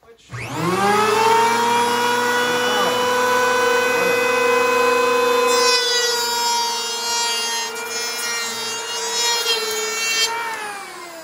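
An electric hand planer makes a pass along a 2x6 board, its motor spinning up to a loud, steady whine that holds for about ten seconds with some cutting roughness partway through before it begins to wind down.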